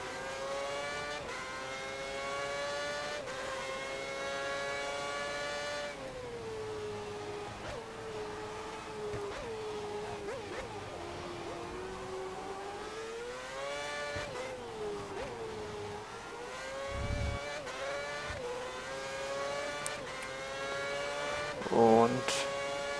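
Formula 1 race car engine in the F1 2010 video game on a qualifying lap, a loud continuous high whine rising and falling through gear changes and braking, with someone talking over it.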